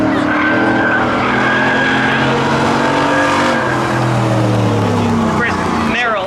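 Street legal drag race cars, a Chevy SS against an Audi, launch off the line with a loud sustained engine roar rising in pitch, while an announcer talks over it.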